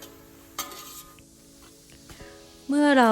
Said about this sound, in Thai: เราจะผัด แกงไปจนแกงแห้ง